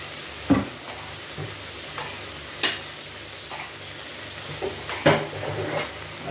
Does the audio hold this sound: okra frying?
yes